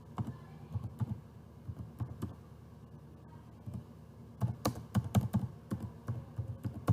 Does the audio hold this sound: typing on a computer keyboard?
yes